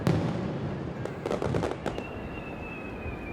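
Japanese summer fireworks burst one after another at a distance, a sharp boom followed by a cluster of crackling pops and a rising whistle, with a continuous crowd murmur underneath.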